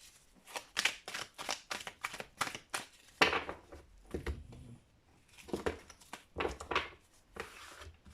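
Amethyst Love oracle cards being shuffled in quick, crisp riffling bursts, close and fairly quiet, with brief pauses between rounds and no talking.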